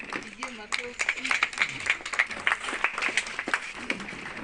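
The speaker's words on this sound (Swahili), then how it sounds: "Pigie makofi." Scattered, uneven clapping from a small group at a children's home charity event, with voices talking and calling over the hand claps.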